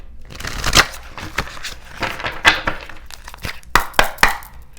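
Tarot cards shuffled by hand: a rapid, uneven run of close, crisp slaps and riffles, loud and dry with brief pauses between bursts and no voices.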